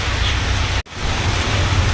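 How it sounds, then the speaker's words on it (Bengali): Rain falling outdoors, a dense steady hiss of broad noise, fairly loud and continuous apart from a brief dropout partway through, with no voices. "ওয়েদার আলাদাই হয়ে গেছে, বৃষ্টি পড়ছে"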